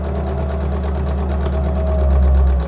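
A sewing machine stitches a straight seam along the edge of tunic fabric, running steadily and continuously with a close, even mechanical hum that swells slightly near the end.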